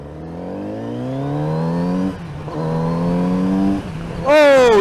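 A 2020 Kawasaki Z900RS engine revs and climbs through gears while riding, a strong rising drone broken by a brief dip at each shift and a sharp higher rev at the end, loud and close.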